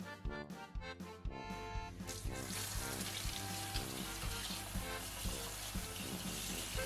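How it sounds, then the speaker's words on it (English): Freshly picked wild garlic leaves are washed under running tap water, a steady close splashing and rushing flow after a few brief handling sounds at the start. "We need to wash and dry them very well."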